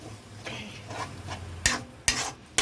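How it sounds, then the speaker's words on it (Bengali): Bengali green banana peel paste being stirred and sautéed in a wok over a medium flame, with soft scraping strokes and a couple of sharper spatula knocks against the metal near the end. "তো এটাকে ভালো করে গ্যাসটাকে মিডিয়াম ফ্লেমে করে অনেকক্ষণ ধরে কষাতে হবে।"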